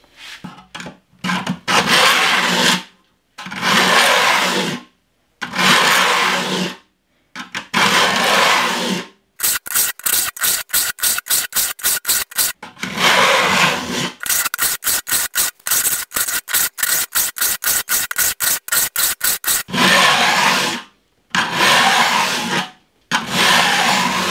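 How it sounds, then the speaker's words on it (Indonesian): A flat file is drawn across the tips of a manual handsaw's teeth to level them, giving close, loud rasping strokes, first in long separate passes and then in a fast, regular run of short strokes, with no talking. "makanya kita lakukan pengikiran ini nanti akan saya ratakan sampai semua ujung-ujungnya itu tersentuh oleh kikir"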